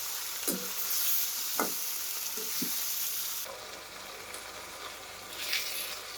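Cashews dropped into a hot pan crackle into a steady high sizzle, with a few soft knocks and stirring scrapes of a spoon, close by and with no voices.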